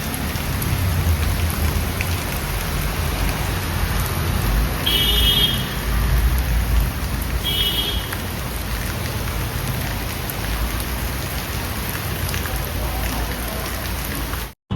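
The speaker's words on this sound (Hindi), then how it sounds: "उसके बाद जो झमाझम बारिश आई है" Heavy monsoon rain pours down steadily and close by, a loud continuous wash of falling water with no talk over it.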